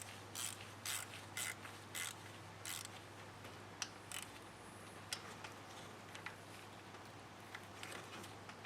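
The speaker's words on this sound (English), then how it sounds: "Put the bolts back in. Now just tighten these down." Ratchet clicking in short bursts as engine bolts are tightened on a Honda during an oil leak repair, quiet and close, with a steady low hum beneath.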